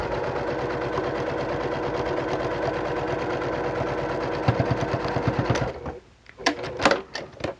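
A sewing machine stitches fabric for a facemask with a loud, close, rapid mechanical rattle. It runs steadily, then slows into separate stitches and stops, followed by a few handling clicks.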